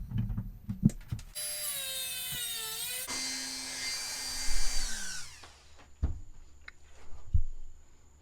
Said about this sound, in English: So this is why a Dremel tool works great.